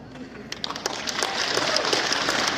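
Convention crowd at Richmond GalaxyCon breaks into applause, starting with scattered claps that swell into steady clapping over a murmur of voices.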